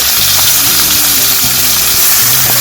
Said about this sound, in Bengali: আমার ঢেঁড়স আলু ভাজা হয়ে গেছে